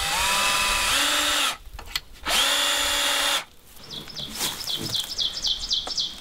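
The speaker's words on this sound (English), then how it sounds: "So I've got the drill and some 3-inch screws." A power drill drives 3-inch screws into a long board while a clothesline is installed. Two loud, close bursts of motor whine rise in pitch and then stop, followed by quieter scraping and chirpy squeaks.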